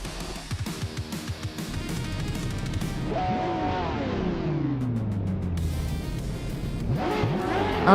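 Racing cars in a video game launching at the Korean Grand Prix track: engines rev and whine, pitch sweeping up and down through gear changes, with a layered roar of several cars and a fresh surge at the end.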